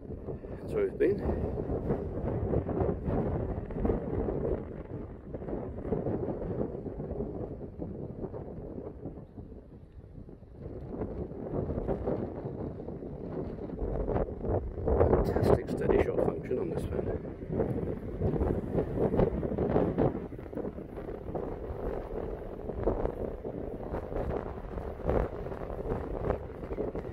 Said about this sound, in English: Fantastic howling gale.